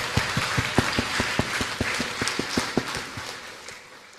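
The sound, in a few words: audience applause at end of seminar Q&A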